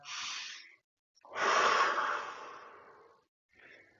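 Deep breathing during a hip strength exercise for golfers: a short exhale, a pause, then a long, loud, airy breath that fades out, followed by a softer final breath, close up with no talking.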